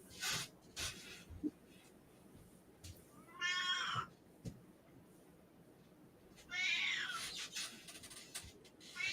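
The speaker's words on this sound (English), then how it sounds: "I hear cats." A cat meows indoors, several drawn-out plaintive calls spaced a few seconds apart, quiet and somewhat distant, with faint room noise and soft background clicks between them.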